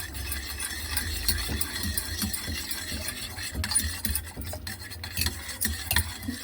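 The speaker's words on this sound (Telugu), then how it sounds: "కవ్వంతో తిప్పుతుంటే మంచి వాసన వస్తుంది పప్పు" Repeated sloshing and scraping strokes of cooked dal being churned with a wooden churner in a pot, steady and rhythmic, fairly faint.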